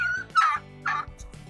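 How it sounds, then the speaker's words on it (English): A broody hen in a hen house gives several short, harsh, close-up clucking calls in uneven bursts, with brief quiet gaps between them. "Oh, there's a broody hen in there right now."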